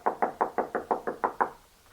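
A second round of firm raps on a wooden door, eight or nine quick, even knocks close by, then a short pause and one more faint tap in a quiet room.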